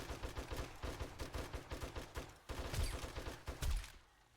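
Rapid bursts of gunfire ring out in the zombie survival game 7 Days to Die, with steady repeated shots for over two seconds, a short pause, then heavier close shots before it cuts off.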